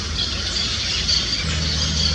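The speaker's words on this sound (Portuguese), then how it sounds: "E os periquitos fazendo barulho no alto das árvores" Parakeets squawk high in the trees of Parque Sabiá in Uberlândia, a steady, shrill chatter of overlapping calls that carries on without pause from a distance, with no voices.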